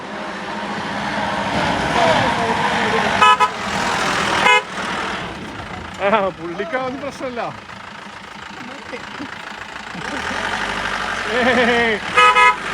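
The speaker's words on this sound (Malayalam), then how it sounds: "ആ ഭാഗത്തുനിന്നൊരു വണ്ടി ഇങ്ങോട്ട് വരുന്നുണ്ട് കേട്ടോ" A 1948-model Land Rover comes along a village road, its engine rumbling and idling with a few horn toots, while people talk nearby.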